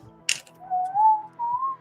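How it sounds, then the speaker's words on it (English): Someone whistles close into a microphone during a live comic book auction stream, a short wavering tune of two sustained notes rising slightly, preceded by a brief hiss. "Or are you whistling into the mic?"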